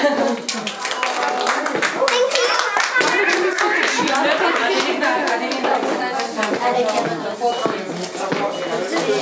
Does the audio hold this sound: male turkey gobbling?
no